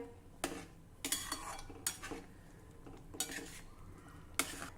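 A spoon stirs boiled potatoes into spinach gravy in a pot, producing intermittent scraping bursts and soft clinks against the metal over a faint background simmer.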